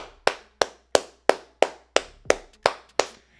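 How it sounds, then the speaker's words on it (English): Nine sharp hand claps in a slow, even rhythm, close and loud, each one ringing out briefly before the next, with no voices. "Clap it up to Bobby Heupel,"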